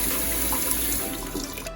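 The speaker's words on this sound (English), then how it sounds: "Go ahead and fill your sink up with water." Tap water runs steadily into a kitchen sink as it fills, a close, constant rushing splash with no talk over it.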